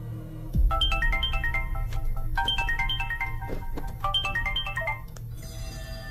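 A phone ringtone plays a bright, repeating melodic phrase three times in a row at moderate volume, with a faint background hum and no speech.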